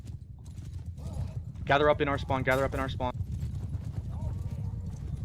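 Horse hooves clatter in a Bannerlord multiplayer battle between Aserai and Darshi forces, a steady galloping patter beneath game noise while a man calls out orders over it.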